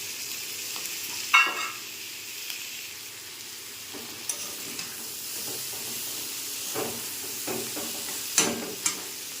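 Onion and green chili fry steadily in a pan, giving an even, continuous sizzle with a few louder crackles and faint stirring clicks throughout, and nobody speaks.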